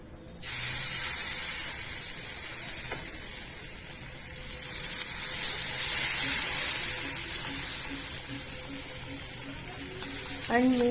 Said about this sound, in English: Firstly I am spraying this Vulga oil.